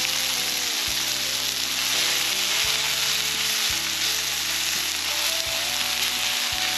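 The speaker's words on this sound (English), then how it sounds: "As you can see, we left the onions as round. We just want to cook these down a little bit so they're translucent." Rounds of onion frying in oil on a Blackstone griddle, a loud, continuous sizzle with a low musical tone underneath, broken by a few short pauses and scrapes.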